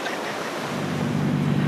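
Rough ocean surf surges through rocky tide pools on the California coast, a loud continuous wash of water with gusty wind buffeting the microphone.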